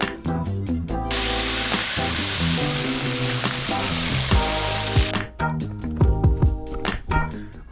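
French fries sizzling loudly in hot oil, a dense steady hiss of frying that starts abruptly and fills most of the stretch, with a tune playing throughout, and the hiss cutting off near the end.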